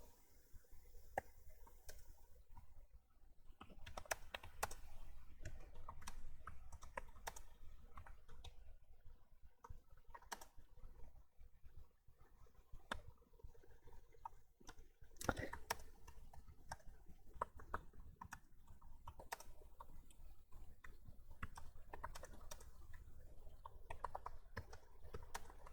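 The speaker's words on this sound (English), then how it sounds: "And I'm not going to talk as I'm typing." Someone types quietly on a computer keyboard, a sparse irregular patter of soft key clicks with occasional short bursts and pauses, no talking.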